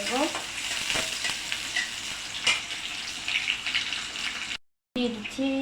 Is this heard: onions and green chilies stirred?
yes